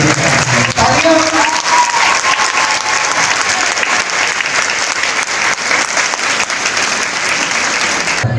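Loud, sustained applause from an audience at a company's annual ceremony, dense clapping filling the whole stretch with crowd noise and some voices mixed in.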